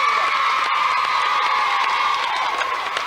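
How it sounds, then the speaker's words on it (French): Studio audience on a children's TV show cheering and applauding two children, a continuous bright wash of shouts and clapping at steady loudness with no speech. "On peut aussi les applaudir tous les deux."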